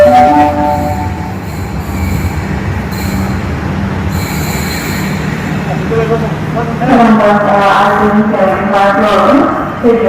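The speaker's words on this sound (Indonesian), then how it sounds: "LRT-nya lagi berjalan." An LRT train on the Palembang line runs along its rails, a loud close rumble with rising wheel squeal and ringing tonal screeches toward the end, continuous throughout.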